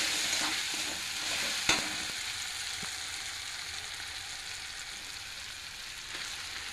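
Washed chicken pieces hit a pan of frying tomato masala with a steady, fairly quiet sizzle, one sharp clack of a spoon or pan and light stirring sounds, with no talk.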